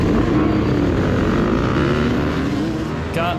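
Dirt bike engines run loud and close at the start of a cross-country race at Powerplex Park, their pitch rising and falling as the riders rev together, with a sharp higher whine near the end.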